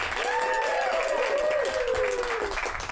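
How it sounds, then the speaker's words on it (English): Audience applause and cheering at an improv comedy show fill the room as a steady wash of clapping, with a voice speaking over the top. "give another round of applause for Sally Ann."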